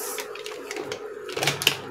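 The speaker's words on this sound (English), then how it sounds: "So we go ahead and we sew to secure our pleats." A sewing machine stitches down fabric pleats on a ruched sleeve, giving a close, fast run of light mechanical clicks that lasts about two seconds.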